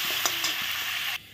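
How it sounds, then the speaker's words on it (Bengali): Potatoes frying in hot oil for a prawn malaikari, a steady close bubbling sizzle with a few soft stirring clinks, cutting off near the end. "আলুটা ভেজে নিচ্ছি।"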